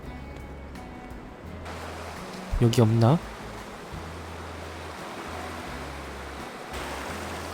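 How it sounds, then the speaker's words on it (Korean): Strong sea waves surging against a rocky shore at night, a steady loud roar of surf and spray throughout, with a brief spoken question from a nearby person partway through. "야, 오늘 파도가 상당하네요."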